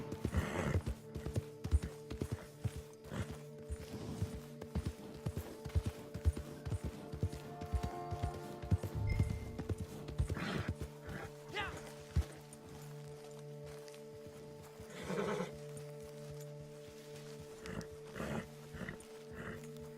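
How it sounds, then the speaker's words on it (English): A horse trots in Red Dead Redemption 2 Online, its steady run of hoof clops close and continuous over low game ambience for the whole stretch. "Looks like my stamina on my horse ran out. I'm just trotting."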